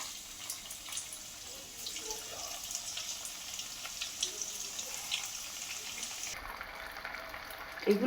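Veg bread balls sizzling in hot oil in a home kitchen, a steady hiss and crackle of frying running throughout at close range with no talk.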